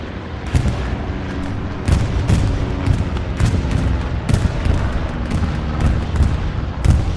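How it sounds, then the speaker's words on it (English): Repeated booms and explosions from an in-game defensive bombing run on Utah Beach in Hell Let Loose, heavy and rumbling with several sharp blasts spread across the stretch amid constant battle noise. "Looks like we do have a bombing run from OFIN coming in."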